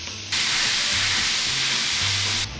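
Ground meat drops into a hot pan beside softened onions and green peppers and erupts into a loud, steady sizzle that holds for about two seconds before cutting off. Everything is heard up close, with no talking.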